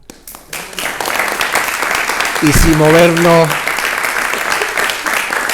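An audience at the fifth Cuentos y Caminos storytelling gathering in Arucas breaks into applause, dense clapping building for several seconds after a brief spoken line, with voices mixed in.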